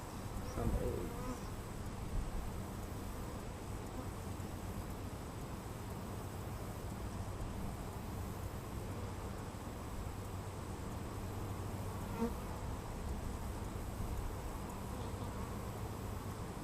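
Honeybees from two new hives buzz continuously during a hive inspection, a dense steady drone close by with no talk.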